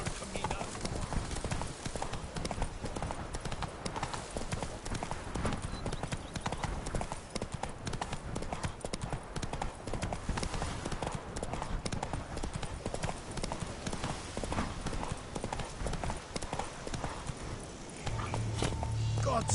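Hoofbeats of Roach, Geralt's horse in The Witcher 3 video game, clip-clop steadily and close for the whole stretch, mixed with game sounds and voices talking.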